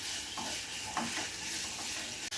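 Chopped onions sizzle in hot coconut oil in a pan, a steady close hiss with a few soft stirring scrapes and no talking.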